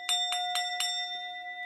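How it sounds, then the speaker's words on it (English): A bright metallic bell strikes four times in a steady rhythm, each ring sustaining a clear ringing tone that lingers and slowly fades afterward, close and alone with no talking. "Where's the bell?"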